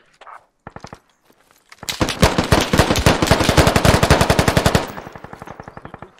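Machine gun fire in the Squad military shooter game: a few single shots, then a long rapid burst of loud, close automatic fire that cuts off suddenly.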